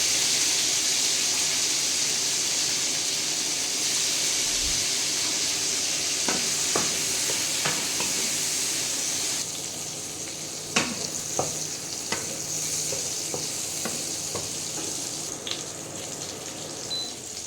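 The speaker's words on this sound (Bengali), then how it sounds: "তো প্রথমেই আমি ফুলকপি আর আলুগুলো কেটে নিয়েছি আর এগুলো আমি ভেজে নেব" Cut cauliflower and potatoes fry in oil with salt and turmeric, making a loud continuous sizzle that eases halfway through, broken by scattered utensil clinks and scrapes as the pieces are stirred.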